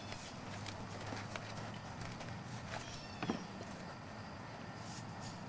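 Horse hooves clip-clopping at a walk during a training session on a horse with a kicking problem, faint, steady and distant under a constant low hum, with a slightly louder thump near the middle.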